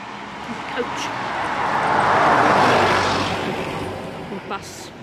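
A coach or bus passes on an open road across Dartmoor, its broad engine and tyre rumble swelling to a peak midway and then fading away, with wind noise around it.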